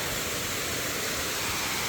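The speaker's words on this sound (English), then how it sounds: "Waterfalls are really flowing." Flowing waterfalls along the Ritchie Hollow hiking trail give a steady, broadband rush of falling water that holds constant and fairly loud throughout, with no voices.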